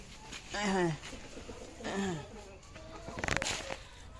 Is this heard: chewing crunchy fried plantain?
no